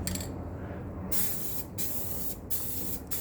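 Close, repeated bursts of aerosol spray paint hiss in short pulses as a tailgate part for an FZJ80 Land Cruiser gets another coat, with brief pauses between each pass.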